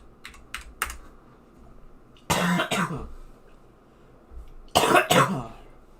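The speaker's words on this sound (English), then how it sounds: "Still a little bit of a cough." Two bursts of coughing from a person with a lingering cold, each a short cluster of rough coughs, heard close up between stretches of quick, light computer keyboard typing.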